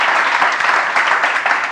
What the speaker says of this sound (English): So big applause again for Elisenda, because